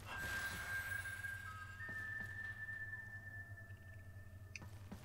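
Long steady whistles sound in the video game Warframe, The Duviri Paradox, a high sustained tone that shifts pitch partway through over a low droning backdrop, moderately loud with no talk.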